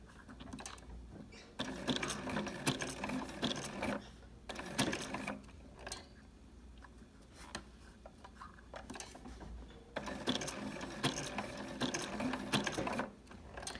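A sewing machine stitches a small candy cane coaster in short bursts of rapid mechanical whirring, a few stitches at a time, separated by quiet pauses while the work is turned. The sound is close and clear, with no speech.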